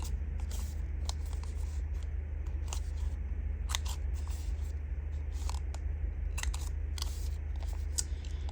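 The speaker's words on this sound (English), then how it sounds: "Now this corner rounder I'm using is an EK Tools." An EK Tools corner rounder punches the corners of journaling paper and cards, giving a series of sharp, crisp clicks and snaps at irregular intervals over a steady low hum.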